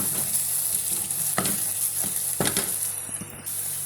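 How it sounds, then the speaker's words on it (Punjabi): Onion, garlic and ginger with turmeric frying in a pan with steady sizzle, close by, broken by a few louder scrapes of stirring alone without talk. "ਥੋੜੀ ਹਲਦੀ ਪਾ ਕੇ ਇਹਨੂੰ ਚੰਗੀ ਤਰ੍ਹਾਂ ਭੁੰਨੋ"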